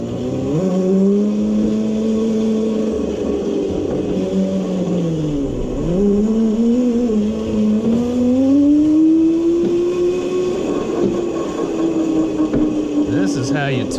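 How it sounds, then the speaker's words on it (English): Small O-ring go-kart engine driven indoors through a facility, its steady buzzing drone rising and dipping with throttle, a brief lull then climbing revs, heard close and continuous under occasional talk. "Go-kart. Little O-ring go-kart. Let's see if I can drive this thing."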